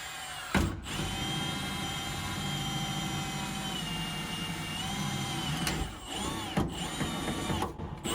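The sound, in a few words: power drill drilling through floor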